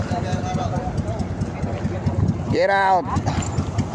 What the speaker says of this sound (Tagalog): may bangka pa master dumadaan